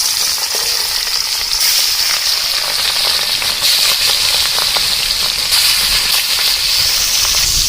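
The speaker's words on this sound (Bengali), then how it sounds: "চিংড়ি দিলাম ভাজার জন্য।" Prawns frying in a pan for a Bengali prawn pulao, a loud, steady, dense sizzle that crackles continuously with no voices.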